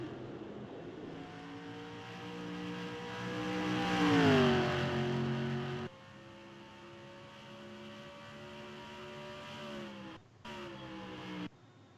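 Dodge race cars on track, engines droning and rising in pitch as they pass, swelling louder near the middle, then a steady engine note that cuts off briefly near the end; no talking.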